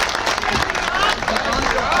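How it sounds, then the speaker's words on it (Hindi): A crowd at a BJP political rally claps in a brief burst of scattered, lively applause, heard under someone speaking over a loud public address. "तालियां जोरदार बजे"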